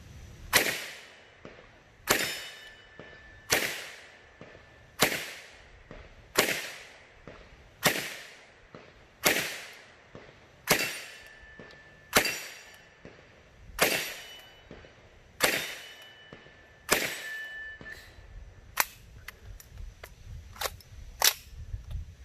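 An MP34 gun being test fired lets out about twelve sharp, evenly spaced shots roughly every 1.5 seconds, then a quicker, fainter cluster of cracks at the end, with no voices.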